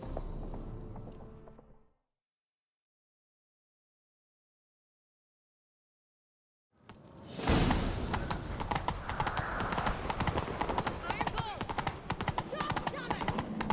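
After a stretch of silence, rapid horse hoofbeats clatter in a steady galloping rhythm, loud and close, over background noise in The Witcher 3: Wild Hunt.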